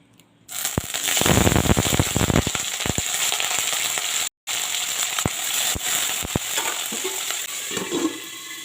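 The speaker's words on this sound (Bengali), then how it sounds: "তেল দিয়ে দিচ্ছি আমার তেলটা খুব ভালোভাবে গরম হয়ে গেছে এবারে কেটে ধুয়ে রাখা আমি আলুটা দিয়ে দিচ্ছি" Cut potato pieces drop into hot oil in a wok and sizzle loudly at once, a dense crackling frying hiss with scattered pops and clinks that settles into steady bubbling, no voices.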